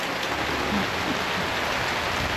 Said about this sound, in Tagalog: Ulan, mahangin